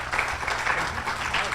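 A short burst of audience applause at a Tiger Bay club luncheon, a moderate, even patter of clapping that lasts under two seconds.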